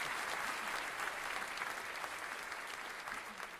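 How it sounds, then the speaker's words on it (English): Applause played as a sound effect: a dense, even wash of many hands clapping, sustained and uniform, fairly faint overall and tapering slightly toward the end, with no speech. "The game master played an applause sound effect."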